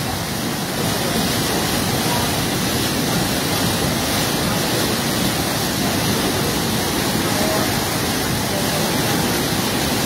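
Floodwater rushing hard through a breach during heavy, unrelenting rain in Habiganj, a dense, continuous roar of broadband noise that stays loud and unbroken throughout, with no clear voices.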